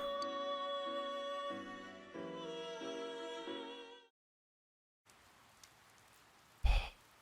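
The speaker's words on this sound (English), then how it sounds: "It's begun raining." Rain ambience in the video game Persona 4 Golden, a soft steady patter at first masked by sustained music, then continuing faintly on its own with a brief louder swell near the end.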